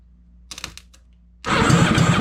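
A new engine on a small aluminum jetboat cranks over for a compression check on its front cylinder, the one that had problems. A few faint clicks come first, then a loud, steady churning drone with rhythmic low pulses, with no talking.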